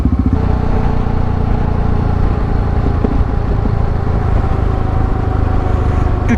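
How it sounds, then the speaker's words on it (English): A diesel motorcycle with an aftermarket exhaust keeps up a steady, loud, throbbing engine note on a road trip, heard close and continuous with no talking. "I got a diesel bike with exhaust system"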